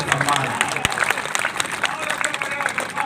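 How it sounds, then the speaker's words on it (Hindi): An audience at a Hindi poetry recital applauds in a dense, steady burst of clapping, with voices mixed in beneath it. "बड़ी तालियां"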